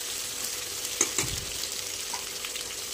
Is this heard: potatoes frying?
yes